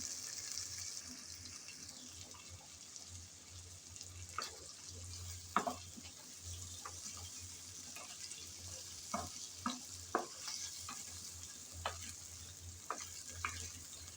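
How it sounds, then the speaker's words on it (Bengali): Potatoes and spices fry in a pan for a vadali leaf dish, a quiet, even sizzle broken by scattered clicks and scrapes as they are stirred now and then. "অপেক্ষা করব যাতে আলুটা ভালোভাবে কষানো হয়"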